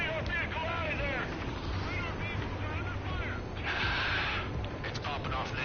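Anti-aircraft guns fire in Ace Combat amid a busy battle din of booms and engine noise, with radio chatter and voices talking over the steady rumble.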